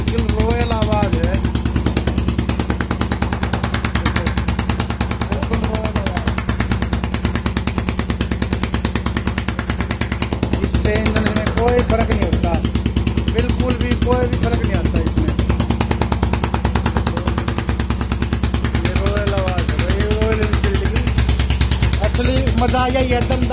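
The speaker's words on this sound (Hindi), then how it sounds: "देखो बुलेट की आवाज, रॉयल आवाज, रॉयल इनफील्ड की बिल्कुल रॉयल आवाज है।" A gunmetal grey Royal Enfield Bullet 350 BS6 with a changed silencer idles and revs nearby, its loud, rapid thumping exhaust beat running continuously while someone talks over it.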